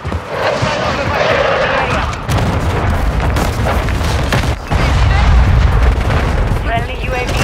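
Call of Duty: Modern Warfare 3 (2023) multiplayer domination match on the Rust map, with a frag grenade blast and bursts of gunfire. The noise is loud and dense and keeps going, with heavy low booms under rapid shooting and game voice callouts.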